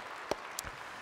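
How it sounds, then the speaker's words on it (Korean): A church congregation gives a brief scattering of claps for a choir, a few distinct sharp hand claps over a quiet room in about a second. "우리 호산나 성가대 박수 한번 하십시다."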